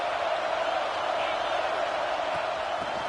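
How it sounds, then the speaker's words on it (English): Stadium crowd noise in a college football video game, a dense steady roar of cheering fans that holds at constant loudness throughout, with no distinct individual voices. "This crowd knows when to bring it."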